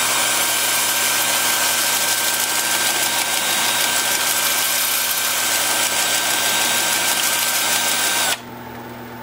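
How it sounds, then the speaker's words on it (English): A wood lathe turning a natural holly crotch runs in reverse at about 380 rpm, making a loud, steady motor hum and whine that holds evenly before cutting out abruptly near the end. "with the lathe spinning in reverse at about 380"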